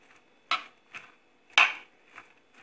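Spoon scrapes and taps against a pan while mango, onion and green chilli are mixed for kovakka thoran, a few sharp isolated clinks at uneven intervals, close and otherwise quiet.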